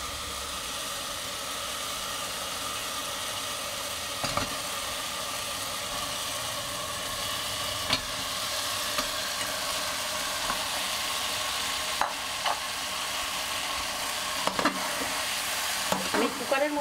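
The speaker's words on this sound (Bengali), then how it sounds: "একটু নাড়াচাড়া দিয়ে নিয়ে আমি মাংসটাকে দিয়ে দেব।" Mutton stirred and frying in a cooker pan for a spicy curry, a steady sizzle with occasional scraping clinks of a spoon against the metal.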